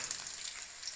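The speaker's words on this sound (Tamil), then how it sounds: "சுரக்காய் போடுங்க." Bottle gourd pieces fry with onion and garlic in hot oil, giving a steady, close sizzle that hisses evenly through the whole short moment with no voices.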